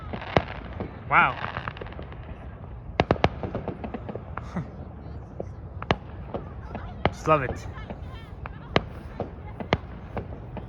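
Distant Victoria Day fireworks in Toronto's North York pop and crack in scattered sharp bursts across the sky, some in quick clusters, while someone speaks briefly over them.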